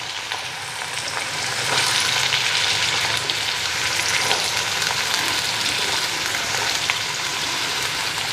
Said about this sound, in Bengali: এখন এদিকে ভাজাটা বসাই দিলাম।